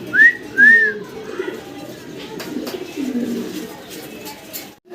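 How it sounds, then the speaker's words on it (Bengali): A pair of pure white Bombay pigeons coo at a pigeon farm: a few soft, low, rolling coos mixed with brief whistle-like calls near the start, with faint background voices. "ভাইয়ের কাছে এক পেয়ার বোম্বাই কবুতর আছে, একদম সাদা দবদবা"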